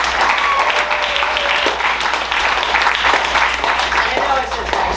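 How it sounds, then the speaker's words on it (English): An audience applauds the backstage crew after a fall stage play production, a loud, steady wash of clapping filling the room for several seconds. "Let's all give the wonderful people backstage another round of applause"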